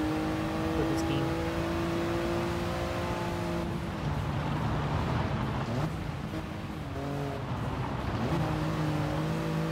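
A Toyota GR Yaris with a three-cylinder turbo engine in Gran Turismo Sport, revving and shifting up through the gears with a steady, buzzy drone, and a voice talking over it.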